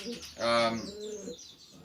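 Pigeons in a young bird loft give soft coos and brief chirps, one fuller call standing out in the middle of a short, quiet stretch.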